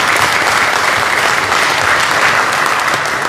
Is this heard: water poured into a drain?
no